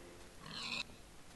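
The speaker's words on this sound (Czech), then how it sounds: "ty prasátka tady jsou tak hezky" A single short pig oink from a Minecraft-style block game (YogBox), fairly faint and close, lasting under half a second against quiet background.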